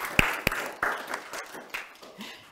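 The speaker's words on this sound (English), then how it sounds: "So we can all clap and give her thanks." A small audience at a meditation and graduation gathering claps briefly, with a few sharp, sparse claps that quickly thin out.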